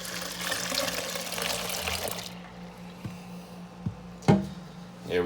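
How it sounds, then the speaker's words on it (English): Water with dissolved citric acid and a gallon of milk poured quickly into a pot for fresh mozzarella, a steady broad rushing pour for about two seconds, then quieter clunks and a sharp knock near the end. "I'm going to add in my 1 cup of water with the citric acid, and my 1 gallon of milk"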